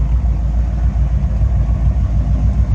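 A 1978 Corvette C3 Pace Car idles with a low, steady burble, a close, even rumble that holds unbroken throughout without any revving.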